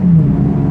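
A modified 2009 Nissan 370Z with a 3.7L V6 drones through its exhaust under throttle, a brief loud steady low rumble heard close up.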